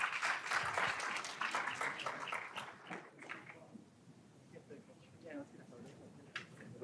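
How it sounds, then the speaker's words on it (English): An audience at a Capitol Hill luncheon on ultra-processed foods gives a round of applause, loud at first then thinning into scattered claps that fade under murmured talk and room noise. "Give yourselves a round of applause"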